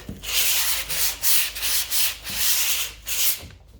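A brush strokes gesso along the edge of a canvas in steady, close, rhythmic rubbing passes, each sweep rising and fading like sanding, with no talking.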